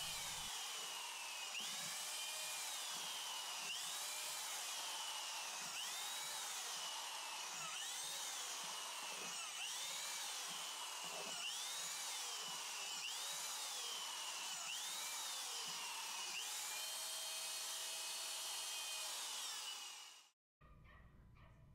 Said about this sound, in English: Then I will use the drill to break down the hardened JWA into small pieces to ease the